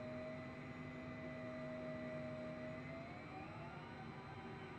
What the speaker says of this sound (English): We can hear the engines.